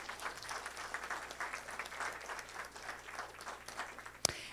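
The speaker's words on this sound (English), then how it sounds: "stand up, and so they can be applauded for their work" An audience applauds a course committee at a class gathering with steady, moderately distant clapping throughout, ending with a single sharp knock.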